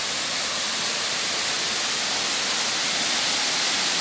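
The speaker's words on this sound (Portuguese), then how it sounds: "Ao lado de uma cachoeira" A private waterfall pours steadily nearby, a dense, even hiss of rushing water that stays constant throughout with no voices over it.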